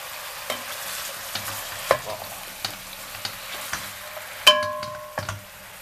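Pork ribs frying in a pot are stirred, with a steady sizzle and a series of clear scraping knocks of the spoon against the pot, one louder clank near the end.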